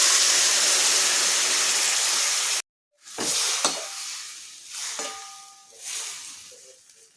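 Soaked potatoes go into hot oil seasoned with red chilli powder and turmeric, a loud close sizzle that cuts out briefly, then returns in softer bursts with clanks of a spoon stirring the pan.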